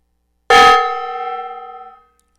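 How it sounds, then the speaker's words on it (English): Gong struck once, a sharp loud hit followed by a bright metallic ring that wavers as it decays over about a second and a half, then silence. "I'm going to hit the gong here."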